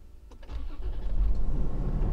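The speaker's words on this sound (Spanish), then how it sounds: "Y la camioneta prende sin problemas." A Toyota Land Cruiser Prado TXL, after a fuel pump repair, cranks briefly with a clicking starter and then catches, settling into a loud, steady low engine rumble close by.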